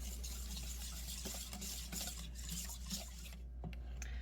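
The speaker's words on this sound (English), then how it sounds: "I'm gonna whisk all this together" An ice cream mixture being whisked in a bowl, a steady wet scraping and swishing with a continuous low hum behind it, close and quiet, with no voices.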